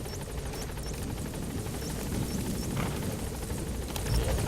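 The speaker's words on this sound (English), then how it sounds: "Support helicopter has arrived." The support helicopter in the video game Metal Gear Solid V: The Phantom Pain arrives with a steady, low rotor rumble that swells slightly near the end, and faint chirping sits on top.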